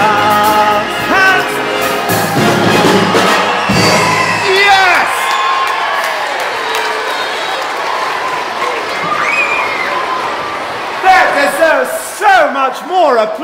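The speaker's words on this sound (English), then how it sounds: "Much more applause than that." A room of children aged about eight to twelve claps and cheers loudly after a classroom song, with whoops and shouting voices over sustained applause.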